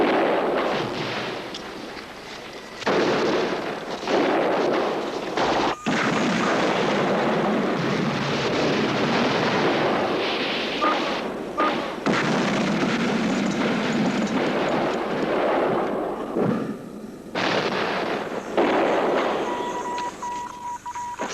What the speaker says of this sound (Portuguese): as tropas do PAIGC lançam o seu primeiro grande ataque com armas pesadas contra o quartel de Guilherme em pleno dia